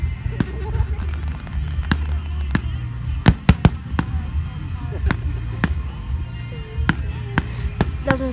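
Fireworks display with firecrackers popping: sharp scattered bangs and cracks over a steady rumbling background, a dense cluster of loud reports midway, some faraway and some nearer.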